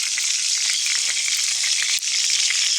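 Tomahawk ribeye steak searing on a barbecue, giving a loud, steady crackling sizzle with fine pops throughout and a brief dip near the end, with no voices.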